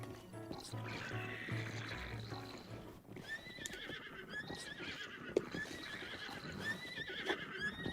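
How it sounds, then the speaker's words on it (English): Horses in a video game neigh and whinny repeatedly in high, wavering cries over a dense background of hoofbeats and commotion, loud and continuous throughout. "The horses are just losing it down there."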